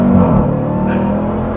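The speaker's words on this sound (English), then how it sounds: "V8 sound and supercharger whine" A 2023 Dodge Durango Hellcat's supercharged V8 rumbles steadily and loudly up close, a sustained engine drone with a faint high whine on top for a brief moment.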